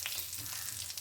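Whole garam masala spices, white cumin, dried red chillies and bay leaves crackling in hot oil for tempering chana dal, a bright continuous sizzle heard up close with no talk.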